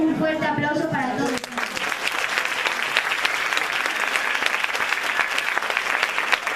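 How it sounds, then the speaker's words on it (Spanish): After a brief spoken announcement, an audience breaks into loud, sustained clapping for student award winners standing on stage at a 2017 school prize ceremony. The clapping stays dense and even, with sharp individual claps poking through. "un fuerte aplauso para todos."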